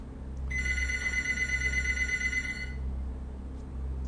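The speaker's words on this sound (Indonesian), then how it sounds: "tiba-tiba HP-nya bunyi." A mobile phone rings with a steady electronic tone lasting about two seconds, at moderate volume over a low background hum in a quiet setting.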